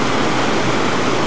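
A waterfall pours beside a cottage on a river near Glencoe Pass, a loud, dense, unbroken rush of water heard close up with no other sounds.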